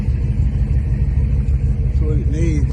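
A Charger's engine idles with a low, steady rumble close by, a continuous throbbing hum; a voice speaks over it near the end.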